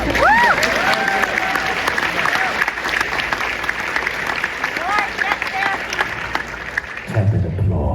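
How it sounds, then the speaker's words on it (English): Tepid applause from a convention audience, a steady mid-level patter of clapping for several seconds with some murmuring voices and a brief vocal sound early on, thinning out near the end. "Tepid applause."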